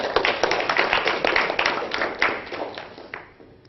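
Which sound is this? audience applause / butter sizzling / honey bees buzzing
audience applause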